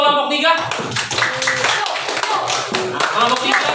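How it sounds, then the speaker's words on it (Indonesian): Classroom applause for a student group during a teaching practice session, a short burst of clapping mixed with children's voices and chatter. "Tepuk tangan untuk kelompok 3."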